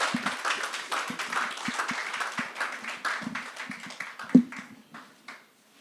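Audience applause at an Afrobarometer report launch patters steadily, with a few louder individual claps standing out, then thins and fades to near silence at the end.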